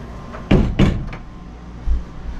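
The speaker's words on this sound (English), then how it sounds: "There's a door there, if you're wondering." A door closes indoors with a couple of sharp thuds and a click close by, followed by a softer knock a moment later.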